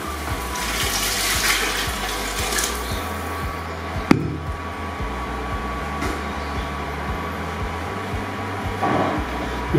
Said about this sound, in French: Ensuite, je vais y mettre de l'eau.